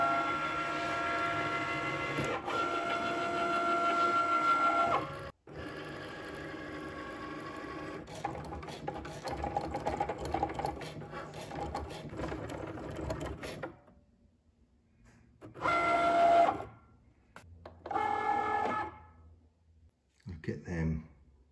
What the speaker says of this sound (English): had a go at printing them on some vinyl